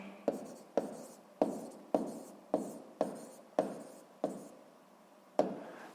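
Chalk or marker strokes writing math equations on a board for a sixth-grade equation exercise, a series of about nine sharp taps each followed by a scratching stroke, close and clear with no talk.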